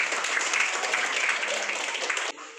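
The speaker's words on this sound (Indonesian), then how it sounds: "Tepuk tangan untuk teman-teman." A classroom of pupils applauds together, a dense, steady patter of clapping that holds for about two seconds before cutting off abruptly into quieter room noise.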